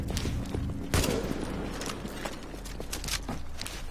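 Assault rifle fire in The Division, with a sharp burst near the start followed by scattered shots and footsteps over a continuous low game-ambience rumble.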